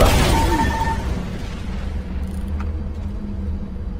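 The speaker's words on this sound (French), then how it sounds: "C'était quoi cette explosion?" A loud explosion in the zombie co-op shooter Left 4 Dead bursts at the start with a heavy low boom, then slowly rumbles and decays into a sustained low drone of game ambience.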